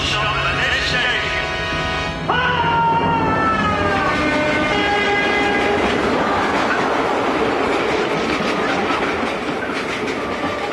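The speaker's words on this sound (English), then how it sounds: "This intercity train does not stop at this station." Intercity train passing through a station without stopping, loud and close: a rising rush of wheels and clattering carriages with descending whistling tones as it speeds by, no talk.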